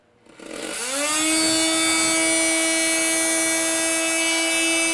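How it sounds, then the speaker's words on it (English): A power tool spins up from quiet to a loud, steady high-pitched whine and holds it continuously while loosening a rusted, stuck nut, close by, with no talking. "coming back in with the power tool, put that wrench on top"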